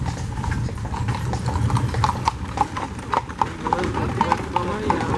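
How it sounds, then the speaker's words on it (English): Hooves clip-clop in a steady, fairly close rhythm as a horse-drawn carriage rolls past on a street in Colonial Williamsburg, with background voices mixed in. "Carriage will come past you right here on my left."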